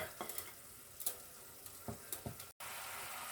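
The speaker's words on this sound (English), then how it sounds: "please put the old soy sauce and all the spices in it and let them cook" Mushrooms cooking in a pan with soy sauce and spices, a soft steady sizzle broken by several sharp spatula taps and scrapes, close and moderately quiet.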